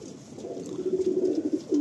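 Madrasi pigeons in a loft give a soft, close run of low, throaty cooing, one rolling call building and then restarting near the end, with no talking.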